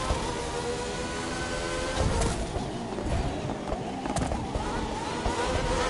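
A race car in The Crew 2 video game accelerates to full throttle, its engine droning loudly and steadily throughout, with a couple of sharp surges partway through.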